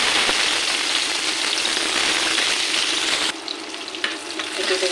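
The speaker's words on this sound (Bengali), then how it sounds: "এটাকে এখন আমি একটু ভেজে নেবো, একটু লাল লাল করেই ভেজে নেবো" Onions sizzling in hot oil in a wok with bay leaves, a loud steady frying hiss that thins out near the end into quieter crackles and pops.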